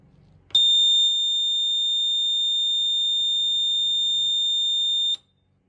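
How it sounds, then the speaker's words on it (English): A single continuous high-pitched buzzer tone from a farm emergency alarm sounds loudly for about four and a half seconds, then cuts off, leaving near silence. "So here is the buzzer"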